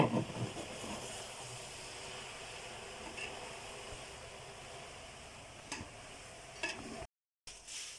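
Vegetables for spring roll filling, including green chili and fresh coriander, are stirred in a pan with a soft steady sizzle and hiss, broken by a few light scraping clicks of the spoon, with no talking.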